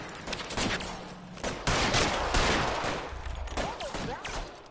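Gunfire in the L.A. Noire video game during a fight at Nicholson Electroplating, with bursts of shots and rapid volleys at close range, a vehicle or engine rumbling beneath and a short whistling sweep near the end.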